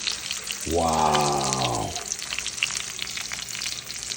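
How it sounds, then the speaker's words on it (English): Chicken sizzles loudly in a frying pan with a steady crackle throughout, while a person briefly exclaims over it. "Pan frying."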